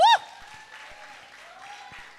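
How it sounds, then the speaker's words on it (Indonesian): Women in a church congregation applaud briefly, a soft diffuse patter lasting about two seconds, under sustained tones. "Tepuk tangan ibu-ibu."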